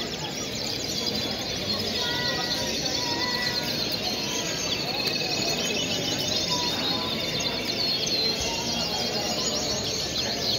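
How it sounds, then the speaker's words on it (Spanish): Many caged canaries at a canary-breeding competition chirp and trill in a dense, continuous chorus that stays loud and busy throughout. "Impresionante también los pájaros."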